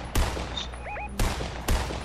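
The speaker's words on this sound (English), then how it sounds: "I missed every single shot." Gunfire in the Fortnite video game, zero build mode: three sharp game gunshots spaced about half a second and one second apart, with faint game interface chirps in between and no talking.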